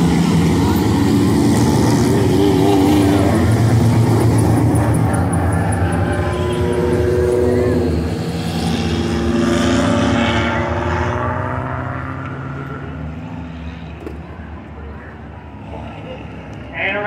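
Stock compact race cars fire up and roll off one at a time for a 50-lap feature at Mt Lawn Speedway, a loud, sustained engine roar that gradually thins out, with a voice talking over it.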